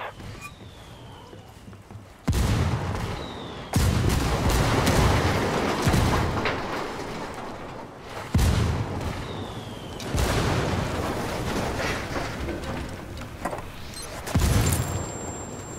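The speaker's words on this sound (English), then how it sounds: "Call the rebels for mortar fire." Mortar rounds called in from rebels in Ghost Recon Wildlands land as several heavy booming explosions spaced a few seconds apart, each with a sharp onset and a rumbling tail under game ambience.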